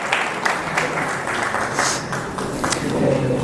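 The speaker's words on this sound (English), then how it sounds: "Please have a round of applause for her." An auditorium audience at a university inaugural lecture applauds steadily in a sustained round of clapping, moderately close, with some voices mixed in.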